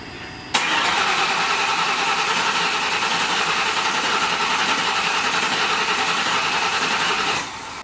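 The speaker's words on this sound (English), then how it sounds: "See if it cold starts now." A modified car on E85 fuel cold-starts in a garage: a sharp crank catches at once and settles into a loud, steady, buzzy idle close by, which holds for several seconds and then cuts off.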